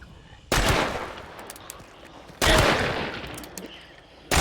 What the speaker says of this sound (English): We'll test your aim now.